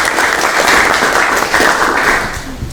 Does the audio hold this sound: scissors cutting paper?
no